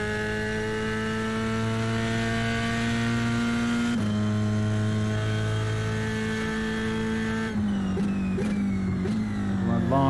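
A drag car engine in a racing sim sits bouncing off its rev limiter with the throttle held flat, a loud sustained buzzing whine that steps down in pitch partway through and turns rougher near the end.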